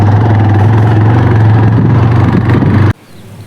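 A TVS Raider motorcycle engine idles steadily and loudly nearby, a low even rumble that runs for about three seconds and then cuts off abruptly.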